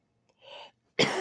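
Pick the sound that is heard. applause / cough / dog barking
cough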